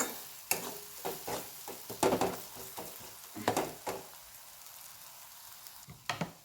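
Vegetables and spices for pav bhaji are sautéed in a pan, with a quiet sizzle broken by irregular scraping, clattering stirs of a spoon against the metal, loudest in a cluster of strokes early on.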